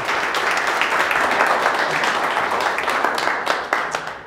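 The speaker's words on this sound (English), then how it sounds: "give them a round of applause for being here" Audience applause at a product growth talk rises as a dense wash of clapping, then thins out into scattered final claps near the end.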